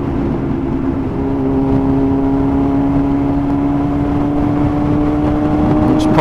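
A Yamaha FZ1-N motorcycle pulling through traffic, its engine humming loud and steady as the pitch climbs slowly under acceleration, with wind rush throughout.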